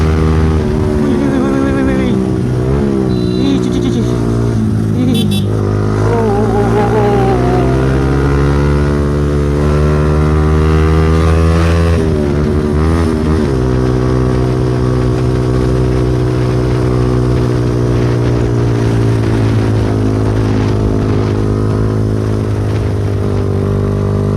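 A Yamaha Xabre motorcycle ridden on Ambon roads pulls hard, its engine note climbing and falling through several gear changes in a loud, continuous drone, with a voice briefly heard over it.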